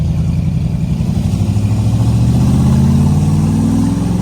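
A 1965 Shelby Cobra's engine runs loud and close, its deep throbbing note rising steadily in pitch as it's revved up over a few seconds.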